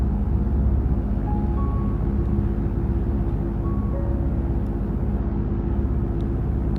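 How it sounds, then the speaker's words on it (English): Fighter jets pass overhead in the Project Zomboid zombie survival game, a loud, continuous low roar and rumble that holds steady with no speech over it. "With the sounds of the fighter jets trailing"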